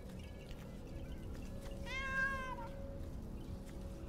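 A single drawn-out cat meow rises and falls around the middle, fairly close, over a steady low hum and faint room noise, with no talk.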